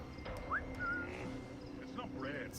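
A game character whistling in Assassin's Creed 4 Black Flag, two or three short rising whistle notes over faint background ambience, brief and moderately clear.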